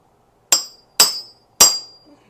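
Three sharp metallic hammer blows on an oil pump collar on a small block Chevy engine, evenly spaced about half a second apart, loud and close, each ringing briefly in a quiet shop with no talking.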